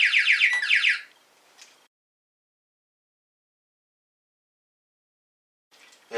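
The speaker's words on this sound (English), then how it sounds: "Should your Texecom Premier panel activate whilst unset, you will hear this tone." A Texecom Premier alarm panel, triggered while unset, sounds a rapid electronic warbling tone for about a second. A faint trailing blip follows, then silence, and the tone starts again at the very end.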